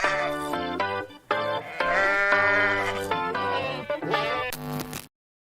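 A goat bleat sound effect, several loud wavering bleats in a row, each with a strong harmonic tone, played alone over a brief pause in a hockey sports talk show.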